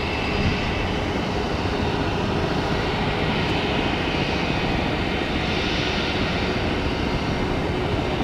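A United jet departing Tampa for JFK, likely a 757, roars as a steady, dense wall of engine noise for the full stretch, close and unbroken with no talk.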